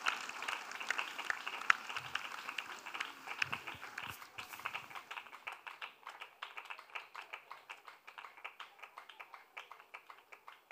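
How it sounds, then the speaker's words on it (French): A church congregation claps in acclamation, the applause building into a steady, fast rhythmic clapping that carries on at moderate volume. "Acclamation. Clap."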